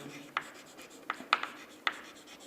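Chalk or marker writing on a board during a wastewater chemistry lecture, giving four or five short, sharp scratchy strokes spaced irregularly over a quiet room.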